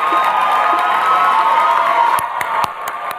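A university class audience cheers and claps loudly and continuously, with whoops rising over the applause before a few sharp claps ring out near the end.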